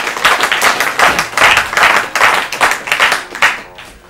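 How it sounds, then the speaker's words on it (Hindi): Audience applause for a contestant on an Urdu literary quiz show, a loud continuous burst of clapping lasting about four seconds, dense and close, tapering off at the end. "ताली बजाइए इनके लिए।"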